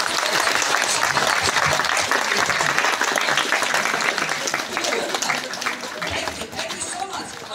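An audience applauds together, a dense continuous roll of clapping from many hands that holds steady, then gradually thins and fades toward the end.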